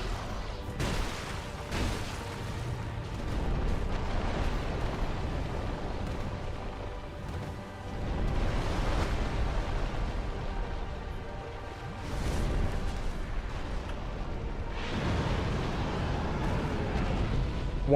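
Fireballs launched during a Dark Souls 2 boss fight, heavy booming bursts and rumbling blasts rolling in waves with dense game noise, loud and continuous.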